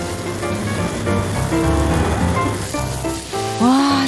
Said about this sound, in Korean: 여기에 기름을 부어 다시 튀기기를 반복합니다